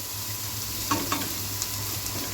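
Pumpkin wadiyan, sun-dried lentil dumplings, roast in hot tempering oil, sizzling steadily and close by, with a few soft clicks as a spoon stirs them and no speech.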